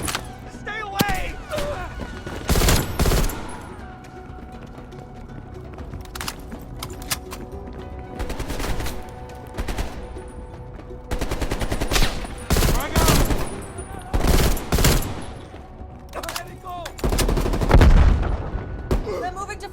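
Heavy gunfire in the Call of Duty Cold War campaign, with repeated loud bursts of automatic fire and scattered shots over a battle din, interrupted by shouted voices.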